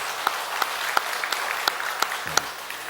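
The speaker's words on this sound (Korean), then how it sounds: "우리 박수로 한번 환영하시겠습니다." A church congregation at a Sunday morning service claps to welcome a visiting guest, giving a soft, steady patter of hands with a few sharper individual claps standing out, fairly distant and brief.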